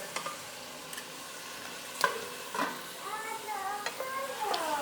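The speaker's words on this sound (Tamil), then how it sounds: "தக்காளி வந்து நல்லா வதங்கட்டும்." Tomatoes sautéing in a pan, a soft continuous sizzle with scattered stirring scrapes and clinks up close; several sharp clicks of a utensil against the pan stand out.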